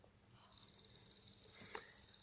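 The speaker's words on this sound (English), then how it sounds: "the alarm will go off" An alarm system built on an Arduino Uno, triggered by someone opening the front gate, sounds a loud, continuous high-pitched electronic tone with a fast warbling pulse that starts abruptly and holds steady with no talk.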